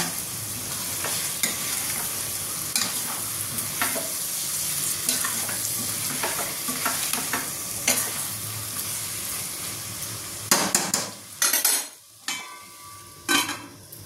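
Chicken curry with spice powder sizzles steadily in a pan while a spoon stirs and scrapes, ending in a few louder clanks of the utensil against the metal.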